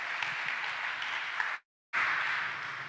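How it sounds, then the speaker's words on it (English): Audience applause at a startup pitch event as a CEO walks on stage, a steady, dense wash of many hands clapping that cuts out briefly to silence and then resumes just as full. "Applause for Filippo Agostino"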